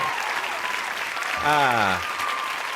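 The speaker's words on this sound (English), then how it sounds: "Let's get everybody cheering." An online show's audience applause and cheering sound effect, a steady wash of clapping with a brief swelling tonal cheer in the middle, fairly loud and uninterrupted.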